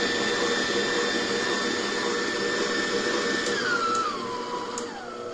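A CHeflee 6.5-quart 660W tilt-head electric stand mixer runs with a steady high whine and motor hum, then its pitch drops in steps as the speed is lowered near the end, with no talk.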